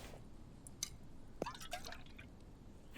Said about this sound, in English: You should be able to drop the water in.